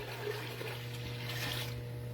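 A water and white vinegar pickling brine poured from a container into a pot, producing a steady splashing, gurgling pour that runs continuously under a low constant hum, with no talking.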